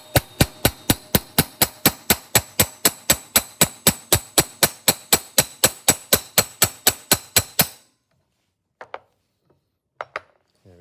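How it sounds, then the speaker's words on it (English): A ball peen hammer strikes down onto a cup-head rivet snap set atop a rivet, about thirty sharp, evenly paced ringing blows in steady rhythm, close and loud, followed by a couple of faint light taps after a pause. "use my ball peen hammer to strike down onto that"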